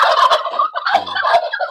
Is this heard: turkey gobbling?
yes